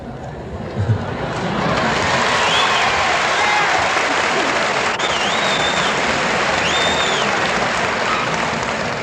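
Audience at a Robert F. Kennedy campaign speech at Ball State University breaks into sustained, dense applause that swells after the first second and holds steady and loud throughout.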